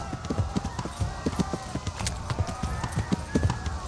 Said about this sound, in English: Got ourselves a freaking horse.